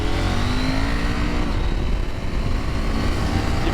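A 2023 KTM 890 SMT motorcycle engine drones loud and steady while riding on an open road, holding high revs the whole time under heavy wind rush with no talking.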